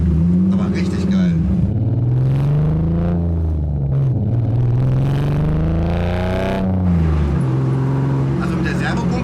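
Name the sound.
engine of self-built Ferrari F40 replica running and revving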